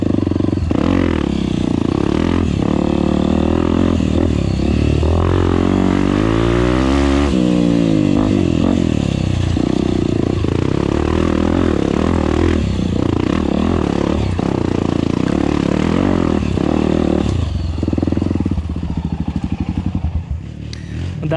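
Dirt motorcycles ride a rough trail, their engines revving and accelerating loudly up close, with pitch rising and falling over clattering and scraping from the terrain.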